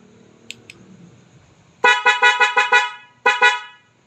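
Loud, bright two-tone aftermarket dual horn on a Suzuki Samurai blares in a rapid run of short honks, then a pause and two more blasts, following faint background sounds.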